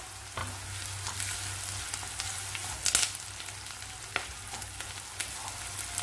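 Onions, fennel seeds and curry leaves sizzle and crackle steadily in hot oil, with scattered sharp pops and a low hum underneath; no one speaks.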